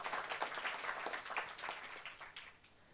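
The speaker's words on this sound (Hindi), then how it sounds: "ये ऐतिहासिक फैसले पर तो ताली है" An audience applauding at a political speech in a hall, with a soft, dense patter of many hands clapping that fades slightly toward the end.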